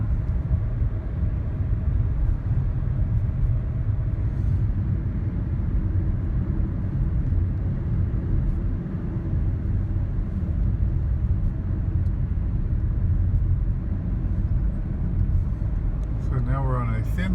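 A car driving along a narrow coastal road between the ocean and the intracoastal waterway, a constant low engine and tire rumble heard from inside the vehicle with a person talking over it.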